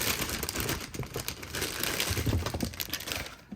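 Plastic bag of washed Brussels sprouts crinkling and crumpling up close in a kitchen, a steady rustle of handling throughout with sharper crackles and no talk.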